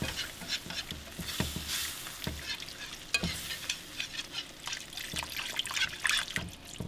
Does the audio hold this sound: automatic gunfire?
no